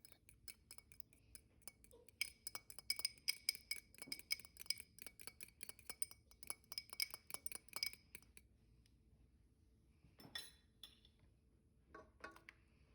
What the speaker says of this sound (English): Before I add my eggs into the mixing bowl, I'm going to quickly scramble them with a fork.